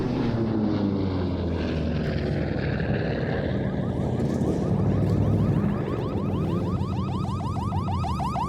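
A Korean War-era F4U Corsair piston-engine propeller fighter displaying at an airshow in Leszno, its loud continuous engine drone passing close, with a rising and falling pitch sweep as it flies by.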